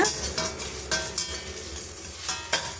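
Chillies and spices roasting in a pan with soft sizzling, while a spoon stirs and scrapes at irregular intervals in a series of light, close taps.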